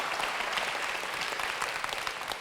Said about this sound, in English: Can we give Robert a little bit of applause?